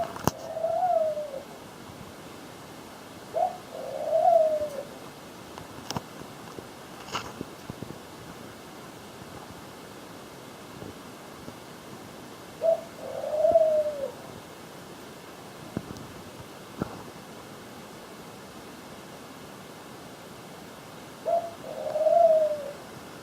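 Ringneck doves cooing, four soft, widely spaced calls against a quiet indoor background with a faint steady hum.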